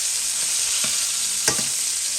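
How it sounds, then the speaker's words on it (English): Loud, steady sizzling of beef fillet searing in hot fat, with a couple of brief pops and scrapes. "Good sizzle, what we want."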